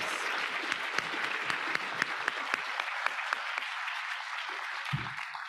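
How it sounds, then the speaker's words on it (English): Steady applause from an indoor audience honoring the finalists of a Three Minute Thesis competition, a dense continuous patter of many hands with sharper individual claps, fading out near the end. "Let's give a round of applause because they are all winners."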